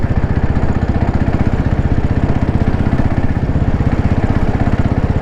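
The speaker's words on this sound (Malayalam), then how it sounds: "വണ്ടി ശരിക്കും എഞ്ചിൻ ഇടിക്കുന്നുണ്ട് കേട്ടോ." A Royal Enfield Classic 350 climbing uphill with its engine knocking, a loud, close, rapid and rhythmic single-cylinder thumping that runs throughout with no pause.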